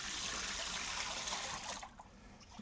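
Water rushing through a badly laid drain pipe with poor flow, a steady close gush that drops away near the end to a faint trickle.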